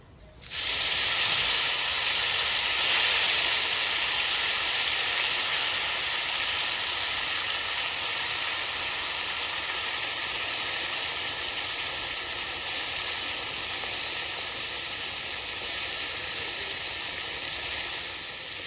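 Fish sizzling as it hits hot mustard oil with cumin and bay leaf in a kadai, a loud, steady hiss that bursts in at once and holds unbroken for many seconds with no talking.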